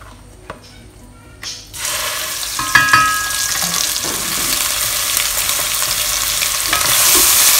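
Spice paste frying in oil in a Dutch oven over medium heat, a loud close sizzle that starts abruptly after a quiet moment and builds steadily, with a few stirring clinks.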